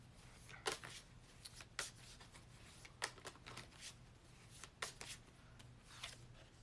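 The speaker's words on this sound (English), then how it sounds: "I'm going to pull a card for you, Pixelpia." Goddess oracle cards being drawn and shuffled from a deck: a quiet, close series of soft papery flicks and slides in irregular bursts over a faint steady hum.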